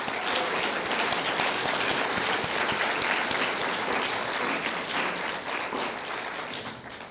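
Sustained applause from an awards ceremony audience fills the room, loud and steady throughout, easing slightly toward the end with no speech over it.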